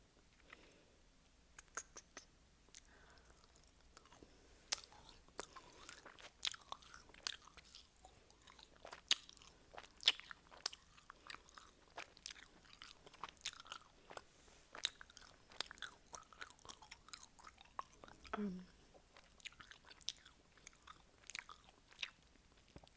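Close, quiet chewing and biting on a candy ring, with sharp crunchy bites scattered irregularly over a low room hush, no talking.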